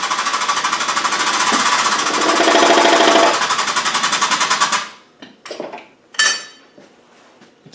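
A press drives a bearing onto a Land Rover R380 gearbox shaft with a socket, giving a loud, rapid rattling hammering that swells and then stops, followed by a few sharp metallic clinks and knocks.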